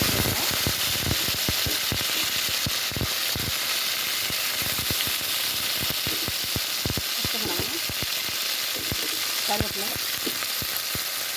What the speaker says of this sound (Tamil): எல்லாத்தையும் சேர்த்துக்கிட்டு நல்லா வதக்கிக்குவோம்